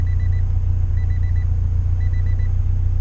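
Acura Integra with a B20V engine idling, a deep, steady low rumble close by, with faint repeating electronic beeps in sets of three over it.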